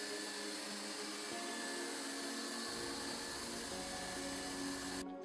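A heat gun blows steadily while welding a plastic water tank for an underslung 120-litre Ford Transit tank, giving a continuous broadband hiss and whoosh close by throughout, stopping abruptly at the very end.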